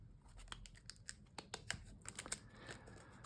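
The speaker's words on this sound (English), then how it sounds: "do the plastic wrap on the cards" Plastic wrap being peeled and torn off a new tarot card deck: faint, close crinkles, snips and crackly tearing ticks in uneven bursts, quiet and without talk.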